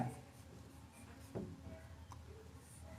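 A pen writes out a class 6 maths exercise on paper in a steady, quiet scratch, with one slightly louder tap of the pen near the middle.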